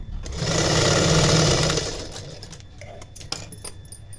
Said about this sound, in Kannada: ಇದ್ರ ಮೇಲೆ ಡಬಲ್ ಸ್ಟಿಚ್ ಹಾಕೋಬೇಕು